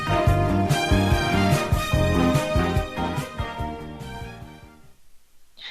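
Entertainment Tonight theme music plays loud and bright, with rhythmic brassy stabs and sustained chords, then fades toward silence near the end, with no voices.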